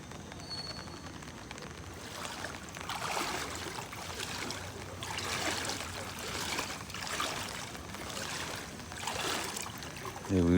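Floodwater from overnight rain at Talap in Kannur, Kerala, swirls and washes through streets among shops and homes, a steady rushing, surging water sound with periodic swells, fairly close and without voices.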